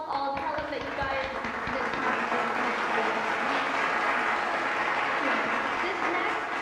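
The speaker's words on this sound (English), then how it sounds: "If we could get like a general round of applause and you know, cheers" A crowd at a community celebration gives Lox a general round of applause and cheers, a dense, steady wash of clapping and voices that holds for several seconds.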